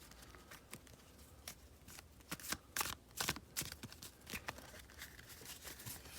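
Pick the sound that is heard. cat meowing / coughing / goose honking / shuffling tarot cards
shuffling tarot cards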